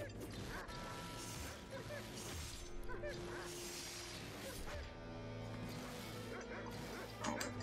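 A dog in the Shank video game barks and yips while attacking amid crashing, clanking action and game music, with someone talking over the busy, dense mix.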